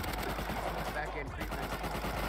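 Rapid gunfire in a multiplayer shooter video game, bursts of close automatic shots repeating in quick rhythm across the whole stretch, loud and sharp.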